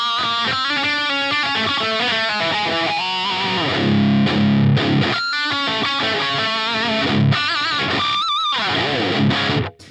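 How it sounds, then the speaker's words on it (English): Electric guitar through the Uber Sonic amp model on a Line 6 Helix, played loud and distorted with effects, chugging chords and melodic lead bends running continuously for about ten seconds with no talking. "So let's go back to the Uber Sonic."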